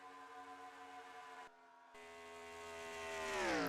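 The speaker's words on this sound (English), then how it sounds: "Thought I heard the idling engine" Idling race car engine in a Daytona 500 racing video game, a steady harmonic drone that briefly drops out, then returns and swells louder with rising pitch toward the end.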